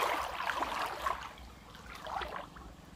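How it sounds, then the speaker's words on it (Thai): Strong floodwater flowing across a road toward the Mun River in Ban Pring during flooding, a steady rushing wash heard nearby, continuous and moderately loud with no talk. "น้ำไหลน้ำไหลแรงด้วยเริ่มไหลแรงตรงนู้นครับ"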